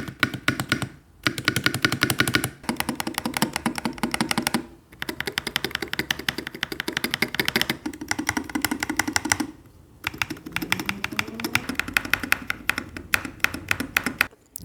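Mechanical keyboard, the MCHOSE ACE68 PRO with well-lubricated stabilizers, typed on in fast continuous bursts of close, crisp key clacks, with a few short pauses between runs.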